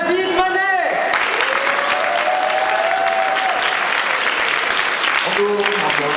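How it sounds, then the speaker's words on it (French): Thunderous audience applause at a fan convention with a Doctor Who theme, steady and loud throughout, with short bursts of a speaking voice at the start and end. "Je vous demande un tonnerre d'applaudissements pour David Manet"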